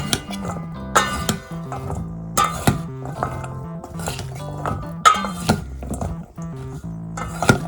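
Carrots tossed with olive oil in a bowl, giving repeated clinks and scraping knocks of a utensil against the bowl in uneven bursts, close and fairly loud.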